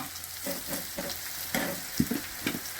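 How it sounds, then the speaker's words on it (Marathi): Bitter gourd (karela) pieces frying crisply in oil in a pan, a steady close sizzle with soft stirring scrapes recurring every half second or so, no voices. "आता आपण तळून घेऊ राहिलो याला बी चांगलं खरपूस तळून घ्यायचं हा"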